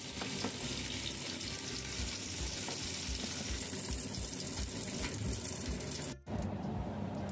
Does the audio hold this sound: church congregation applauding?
no